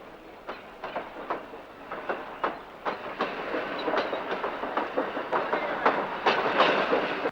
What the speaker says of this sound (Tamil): ரயில் போயிட்டே இருக்கு